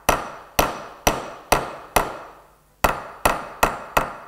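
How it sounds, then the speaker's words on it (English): Sharp metallic hammer blows peen the pivot rivet of a pair of scissors, about nine strikes at a fairly even pace with one short pause partway through. The blows are close and loud, with no talk. "So I'm angling my hammer over because this is a bit like a rivet."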